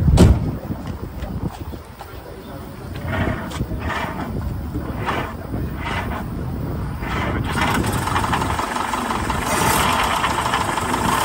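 An old Citroën C4 car engine cranks and catches, then settles into a steady, rough, fairly loud idle that holds to the end, close by with little talk.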